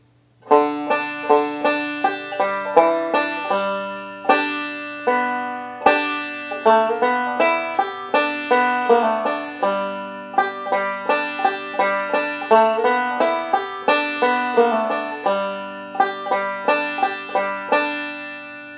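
A banjo plays a quick picked phrase from the tune Long Journey Home, bright rolling notes opening on the open strings in a steady rhythm, close and clear with no voices.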